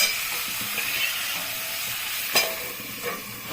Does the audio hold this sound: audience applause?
no